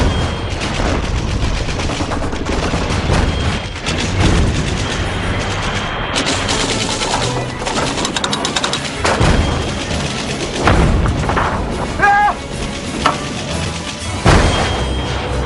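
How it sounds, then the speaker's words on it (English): Heavy bursts of gunfire and booming 75mm cannon shots crack repeatedly over a dense, chaotic battle din, loud and continuous. "Manning their 75mm cannon, they continuously fired at the enemy."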